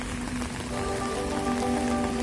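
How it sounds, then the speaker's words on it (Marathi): Heavy rain pours down on the Pune–Bangalore highway near Wathar during a storm, a dense, constant roar of drops striking surfaces with a low steady hum beneath, loud and unbroken throughout. "वादळी वारा आणि पाऊस"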